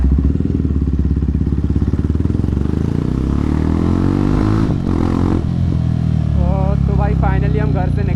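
A Jawa 42 Bobber motorcycle with a loud aftermarket exhaust runs close by, its engine throbbing steadily and rising in pitch at times. Someone talks over it near the end.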